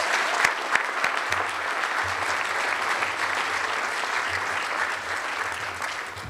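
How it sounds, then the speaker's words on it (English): Audience applause for Super Bowl champion Seahawks players at a 2014 charity event, a steady wash of clapping filling the room, fairly loud and sustained without talk. "Let's give it to Super Bowl champs, Seahawks, a round of applause."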